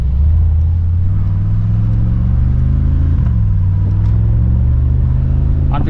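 A Mercedes-AMG G63 G-Wagon SUV engine rumbles steadily and loudly from the cabin while driving, with a deep, constant drone and a brief shift in pitch partway through.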